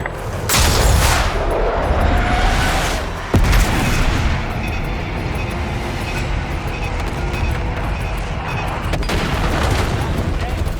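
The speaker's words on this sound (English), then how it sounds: "Diesel 2-1 in the air, looking for target. The airstrike, soldier!" Airstrike explosions in the Black Ops 6 campaign shooter: a dense, loud barrage of booms and rumbling blasts that runs continuously, with a sharp crack partway through and sustained roaring wash behind it.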